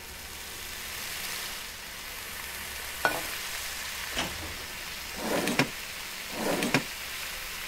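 Seasoned shrimp cook on a stove in the Cooking Simulator video game, giving a steady low frying hiss with a few brief, sharper crackling sizzle bursts near the end and no talk.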